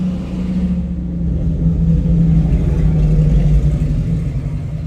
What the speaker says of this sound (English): Let me let this loud ass truck go by.